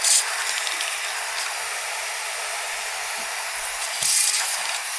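A shop vacuum hisses and rushes steadily while sucking metal residue from a cold cut miter saw, a loud close airflow sound that surges briefly at the start and again near the end.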